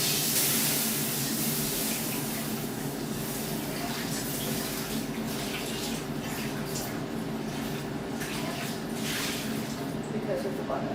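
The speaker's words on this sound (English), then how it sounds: "Now in the middle of your tacos, I will wash my pan" Running tap water splashes and sprays over a non-stick pan being washed in a kitchen sink, a continuous close hiss with small scrubbing clatters, and a person talks intermittently over it.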